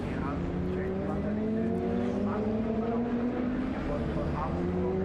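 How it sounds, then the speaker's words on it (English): A race car braking into turn 1 during a motor race, a continuous engine drone with gliding pitch changes as it slows, under a commentator talking throughout. "looking racy here, as under braking goes into turn 1"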